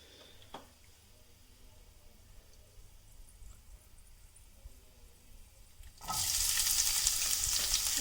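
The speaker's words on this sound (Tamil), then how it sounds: "சோம்பு, பட்டை, லவங்கம் இதை போட்டு எண்ணெயில் பொரிச்சிக்கலாம்" Fennel, cinnamon and cloves are dropped into hot oil for mutton sukka, and after a quiet low-level stretch a loud bright sizzle bursts up and holds near the end.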